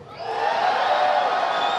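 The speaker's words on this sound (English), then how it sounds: "now cheer if you want to go in the door" Live-stream audience cheering loudly to vote on a choice, a sustained crowd roar of shouts and whoops that swells and holds steady for nearly two seconds.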